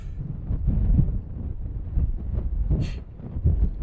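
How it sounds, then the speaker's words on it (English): Strong gusty wind of about 44 mph buffets the microphone as a DJI Mini 2 drone hovers around 300 feet up, a loud continuous rumbling roar that swells and dips without pause. "So these wind gusts are like 44 miles per hour."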